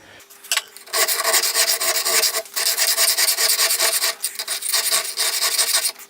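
A metal file rasps along the bevel of a cheap knife in long, loud strokes with brief pauses between passes, close up and without talk.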